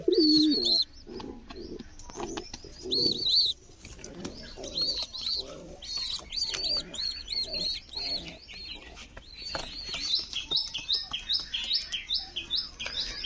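Pigeons on a farm coo softly and chirp repeatedly, with bursts of wing flapping and scattered bird calls close by, growing busier toward the end.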